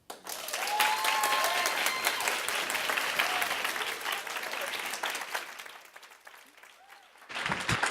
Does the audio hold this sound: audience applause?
yes